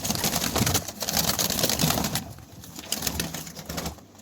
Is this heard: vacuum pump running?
no